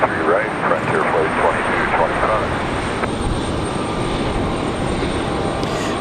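Airplane engine roar on the runway at Raleigh-Durham International Airport, a loud steady rumble held throughout, with radio tower talk audible over it early on.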